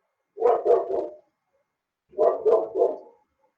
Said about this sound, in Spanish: Me disculpen a mi perro, pero anda escandaloso